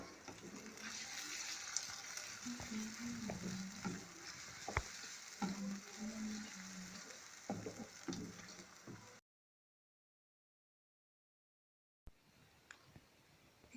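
Chopped onions fry in a pan, a steady close sizzle with stirring scrapes and clinks, then a few seconds of silence before the sizzling returns briefly.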